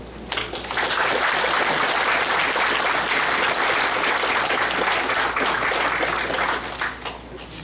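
A seated audience gives a dense, sustained round of applause to welcome the organizing committee chairman at the ICME-12 committee launch ceremony in Seoul. The clapping starts abruptly, holds steady and loud for several seconds, and tapers slightly at the end, with no voices.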